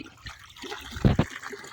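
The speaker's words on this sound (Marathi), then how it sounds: "हा झालाय आपला फॅक्टरीचा कॉक चालू ह्याच्यातून खतरनाक असं पाणी येते" Water splashes from an opened factory-style tap on a farm, a soft trickle rising to two short, louder gushes near the end, with no voices.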